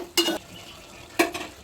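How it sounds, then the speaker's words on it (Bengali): Spoon scrapes and clinks in a pan of fish curry with bean seeds, two short distinct stirring strokes over a quiet background. "একটু নাড়াচাড়া দিয়ে দিব।"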